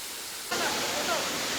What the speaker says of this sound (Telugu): సో ఇదే అండి వాటర్ ఫాల్స్